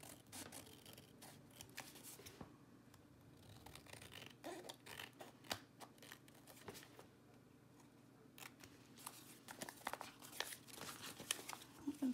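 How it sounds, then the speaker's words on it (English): Scissors trim paper around a postcard, producing soft, quiet snips and light crinkling in an irregular rhythm, close and faint with no talk. "I'm going to trim around this guy."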